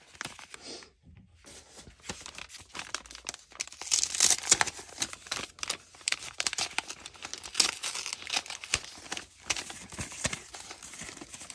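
Decorative craft paper is handled and crinkled up close, with continuous rustling, crackling bursts and soft tearing-like sounds, no talk.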